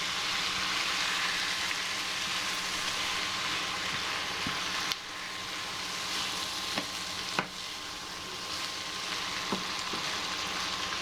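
Beef sizzling as it hits a hot frying pan with Korean barbecue stir-fry sauce, a steady close hiss of frying with a few sharp pops and spatters.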